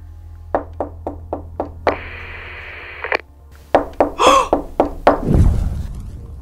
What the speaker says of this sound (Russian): Она постучала в ответ, вы это слышали?